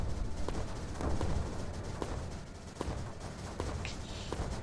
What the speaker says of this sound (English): Do some mortar damage here.